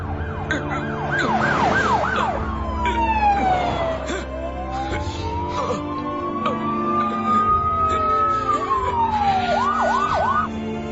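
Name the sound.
police siren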